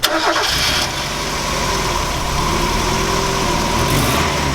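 A 1990 Mazda Miata engine starts and then runs steadily at a loud, rough idle close by, with no voices.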